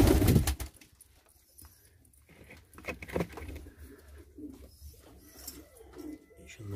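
Çorum naked-neck pigeons in a coop give soft, low cooing calls, a loud burst at the start then quieter intermittent coos with some rustling, no one speaking.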